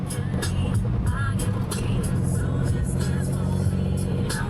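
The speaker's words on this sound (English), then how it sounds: "thing you shouldn't miss if you are in Bangkok is a tuk-tuk ride" A tuk-tuk rides through busy Bangkok streets at night, its engine droning steadily under continuous traffic rumble, with brief higher clatter and passing vehicle noise throughout.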